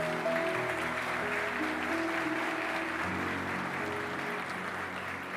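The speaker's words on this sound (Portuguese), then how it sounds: "Você pode dar um aplauso bem bonito para Jesus hoje?" A crowd at a church service claps steadily and fairly loudly for several seconds, with sustained musical tones humming underneath.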